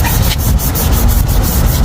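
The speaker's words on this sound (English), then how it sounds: "I am going to do is go light on my sanding with the 320." Steady hand sanding of a headlight lens with 320-grit paper, a continuous rasping scrub with regular back-and-forth strokes, close up and fairly loud, no voices.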